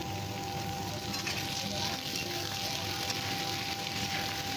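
Potatoes and bottle gourd fry in a little oil with a loud, close, continuous sizzle that holds steady throughout with no pauses.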